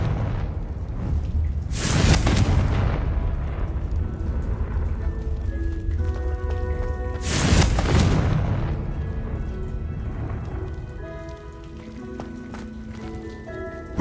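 Two heavy, booming fire blasts from the Confringo spell in Hogwarts Legacy burst a few seconds apart, each with a broad roaring rush. Rumbling game ambience and soft tonal chimes run between and after them.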